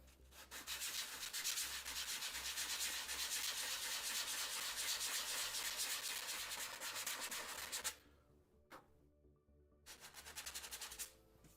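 Sandpaper of 80 grit rubbed steadily over a wood carving, a close, continuous scratchy rasp for about eight seconds, then a few short separate strokes after a pause.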